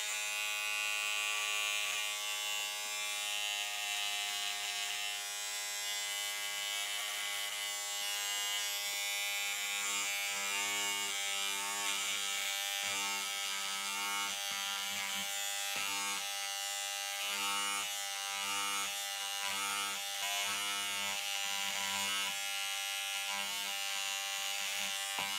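An electric seam ripper trims threads from fabric, giving a constant high-pitched motor buzz that stays close and even throughout, with faint pulsing from contact with the cloth and no talk.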